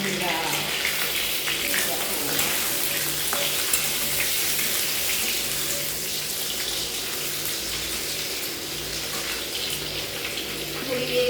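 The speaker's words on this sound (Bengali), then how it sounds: "ফুলকপি রান্না হবে, আলু ভাজা হচ্ছে।" Potatoes fry in a pan, a dense, even sizzle with a watery, hissing texture that holds steady and fairly loud throughout.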